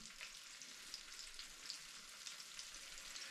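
A fish fillet, bluegill or crappie from ice fishing, fries in oil that is not quite hot, giving a soft, faint, continuous crackling sizzle with scattered tiny pops.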